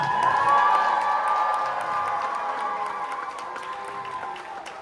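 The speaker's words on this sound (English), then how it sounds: "We'll keep that applause going as we say farewell to the amazing cast of the Walt Disney Theatre." Crowd in the Walt Disney Theatre aboard the Disney Wonder cruise ship cheers and whoops with children's shouts and some clapping, loud at first and gradually easing as the cast is farewelled.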